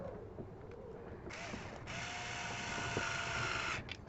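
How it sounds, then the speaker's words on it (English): Screws are driven into Heiniger Progress shears during reassembly, with close ratcheting clicks and scraping turns of a screwdriver on metal and plastic. "And then we can use our bigger screwdriver."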